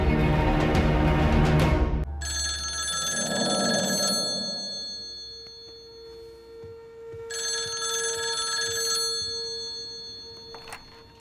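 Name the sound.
landline telephone ringing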